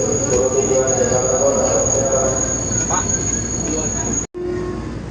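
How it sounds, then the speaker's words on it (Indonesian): A KRL commuter train rolls into the track at Jatinegara station, a loud, steady rumble of wheels with a high squeal running throughout and a brief cut near the end. "Di jalur 11, masuklah KRL dari stasiun Jakarta Kota menuju stasiun Bogor."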